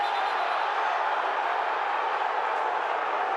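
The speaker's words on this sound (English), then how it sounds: "And you're hearing the crowd react." Large football stadium crowd at an XFL game roaring steadily after a punt return, a dense, continuous wash of cheering voices without distinct individual words.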